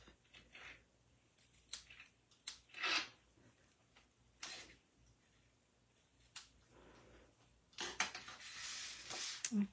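Paper for a pumpkin card being trimmed, a few short, quiet snips and rustles spaced irregularly, ending in a busier cluster of cutting and handling sounds.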